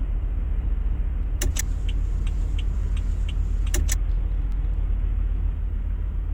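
A 2002 Chevrolet Silverado GMT800 with the 5.3 engine idles in a steady, deep rumble, with a couple of brief sharp clicks on top and no talking.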